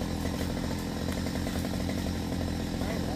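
A chainsaw cutting a coconut tree drones steadily at close range, its engine note holding constant with no pauses, and a voice faintly underneath.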